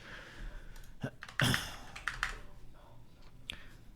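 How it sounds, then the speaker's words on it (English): Computer keyboard typing in the background: irregular, fairly quiet clicks and taps with a denser flurry of keystrokes in the middle, set against faint room noise. "That's what I'm typing so much in the background, okay?"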